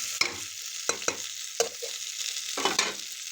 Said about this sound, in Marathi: उरलेला सगळा मसाला याच्यामध्ये टाकून हलवून घ्यायचं.